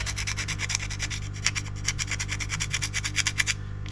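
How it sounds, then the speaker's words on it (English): Hardened filler on a model semaphore signal is sanded back by hand in quick, close, rhythmic scratchy strokes, about five per second, with no talking. "we just need to give that a sand back"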